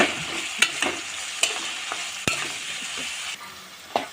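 Pointed gourd (potol) frying with cumin and chili powder is stirred in a pan, giving a steady close sizzle broken by sharp scraping clicks of the spatula at irregular intervals, with no talking.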